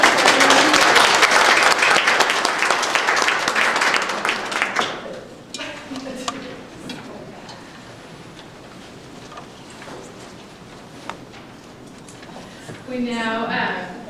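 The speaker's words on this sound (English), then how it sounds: "Round of applause for everyone." Members at a women's chapter meeting applaud loudly for several seconds; the clapping then dies away into scattered claps and room noise, and voices pick up near the end.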